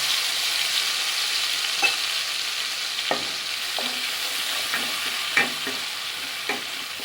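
Mustard seeds and green chillies frying in hot oil for Bengali shorshe ilish, a steady loud sizzle broken by occasional sharp pops and stirring scrapes, with no talk.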